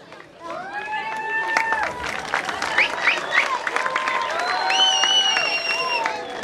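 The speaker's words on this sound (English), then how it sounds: "So this a great big round of applause to Ajman police" Audience at a fun run clapping and cheering as a crowd, a sustained round of applause with whistles and shouts rising over it.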